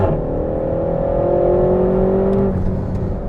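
A 300bhp RenaultSport Megane Trophy on a race track, its engine droning loud and close under acceleration with a steady rising tone, then easing off near the end.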